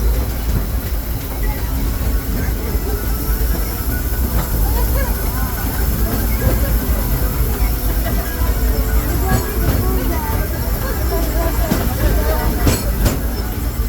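A Disneyland Railroad train rumbles steadily with a low continuous roar, faint rail clatter and occasional wheel squeal as it rolls into Tomorrowland Station, with a voice partly heard over it.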